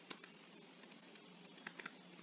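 A computer keyboard is being typed on while entering Java code, giving a run of light, irregular key clicks at close range, one sharper tap near the start, over a faint background hum.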